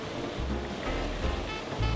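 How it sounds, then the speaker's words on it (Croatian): Water at a rolling boil in a pot for cooking eggs, a dense continuous bubbling roar, close and steady with no voices. "Zavrila je voda za jaja"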